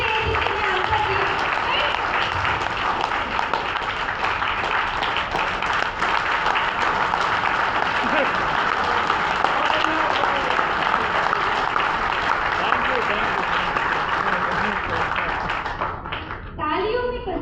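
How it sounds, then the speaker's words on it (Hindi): An indoor audience at a beauty care session claps steadily in a dense, sustained round of applause that carries on evenly before tapering off near the end. "तालियां सबके लिए जिसने आंसर दिया।"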